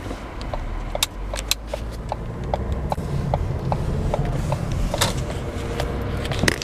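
Car rolling slowly into a Panda Express restaurant parking lot while on an Uber Eats delivery, a steady interior road rumble with a regular ticking like a turn signal and a few small rattles.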